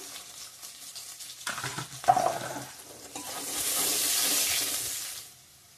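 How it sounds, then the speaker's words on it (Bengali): Onion with panch phoron spices and bay leaves fries in a pan, with stirring clatter first and then a steady, loud hissing sizzle that fades out near the end, no voices over it. "পেঁয়াজটা ভালো করে ভাজা হয়ে গেছে"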